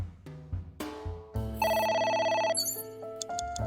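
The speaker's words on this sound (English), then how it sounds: "A phone. Should I pick it up?" A telephone rings in the video game AI: The Somnium Files, a bright electronic ring with repeated tones over background game sounds, loud and close.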